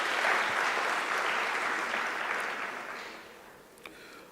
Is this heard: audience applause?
yes